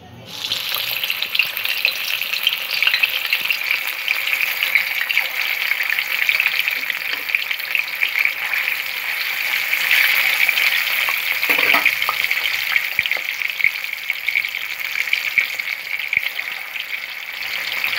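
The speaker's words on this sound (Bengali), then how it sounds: "কড়াতে আমি পরিমাণ মতন সর্ষের তেল দিয়ে দিয়েছি। মাছগুলো এক এক করে ভেজে নেব।" Pieces of shol (snakehead) fish fry in mustard oil in a wok. A loud, continuous, crackling sizzle runs steadily throughout, close up, with a few faint bubbling pops and no talking.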